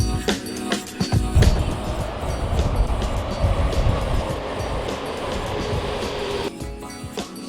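Rumbling, rattling interior noise of a commuter train ride in Tokyo, returning to Nezu station, a steady loud wash of wheels and car vibration throughout with no talking.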